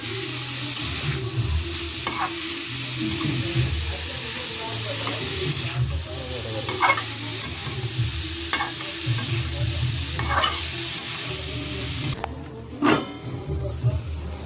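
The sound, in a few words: sautéing snake gourd (padval) vegetable in a pan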